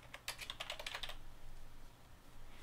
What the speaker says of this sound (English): if we type in the instant search, Windows Meeting Space